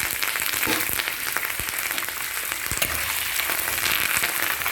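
Curry leaves and green chilli pieces sizzling in hot oil for a tempering, a steady close crackle with scattered pops and no talking.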